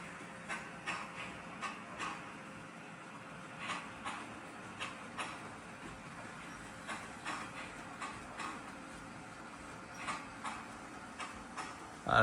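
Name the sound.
motorized LEGO Crocodile locomotive train running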